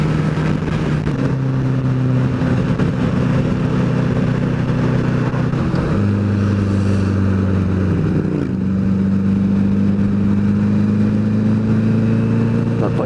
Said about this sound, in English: I do like a V-twin of that kind of low grunty sound